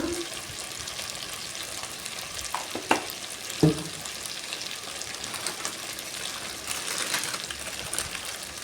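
Potato masala with chilli powder and turmeric is stirred in a frying pan. A steady, moderate sizzle runs throughout, broken by a couple of louder spoon scrapes and knocks against the pan. No one speaks.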